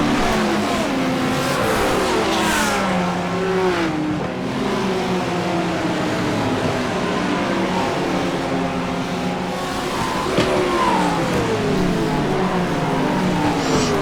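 GT3 race cars from a sim racing game, Fanatec Challenge Fixed series, Canadian Tire circuit, Mercedes, Porsche and Lamborghini among them: several engines rev and rise and fall in pitch continuously, loud and close, with occasional tire squeal.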